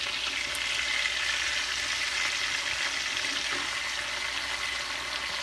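Bass and bream fish frying in a pan, a steady dense sizzle and crackle of hot oil running continuously at an even, fairly close level with no talking.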